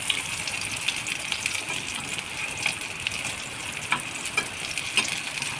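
Flipped potato tikki patties fry in a pan with a steady, hissing sizzle of hot oil that holds level throughout, close and fairly loud, and a few faint clicks rise above it, with no talking.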